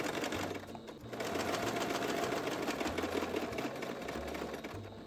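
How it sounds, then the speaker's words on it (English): Sewing machine stitching through fabric and tape, a fast close mechanical rattle running steadily for the whole stretch with slight shifts in pace and no talk over it. "Now we're gonna sew that."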